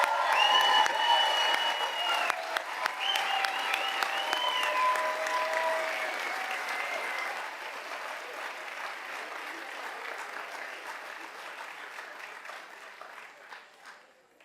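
At a school board meeting, the room applauds newly tenured teachers and administrators with a long, steady round of clapping that begins with a few voices and gradually thins and fades out.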